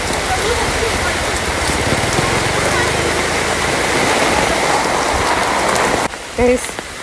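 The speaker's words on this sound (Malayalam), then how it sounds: "മഴയാണ് നനഞ്ഞ് പിണ്ടിയാവും" Heavy rain pours steadily in a dense, hissing roar that fills the whole clip, then cuts away abruptly near the end to a quieter moment.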